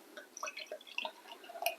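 Bottled Leffe beer is poured into a glass, with soft, irregular dripping and trickling sounds, faint and close.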